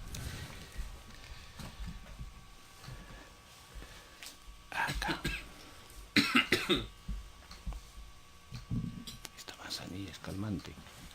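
A person coughs in short, sharp bursts during a Peruvian radio news programme, mixed with nearby conversational speech and background murmur.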